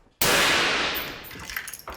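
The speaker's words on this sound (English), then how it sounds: "I never seen like real sniper shooting" A single sniper rifle shot cracks out suddenly after a brief hush, very loud and close, followed by a long ringing decay and scattered echoes.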